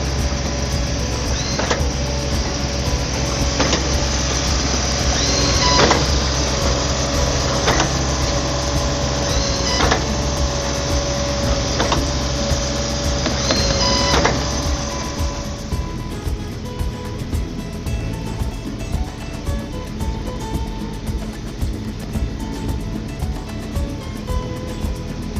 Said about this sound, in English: The PL 8000 mortar is mixed in the hopper at the surface and pumped to the spin caster head.